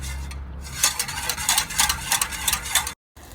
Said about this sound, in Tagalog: Paghaluin natin yung cornstarch at saka tubig